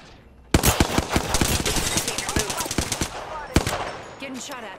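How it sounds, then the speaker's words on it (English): Rapid automatic gunfire in the Apex Legends video game, with a dense burst of close, loud shots followed by a few scattered single shots. "Getting shot at."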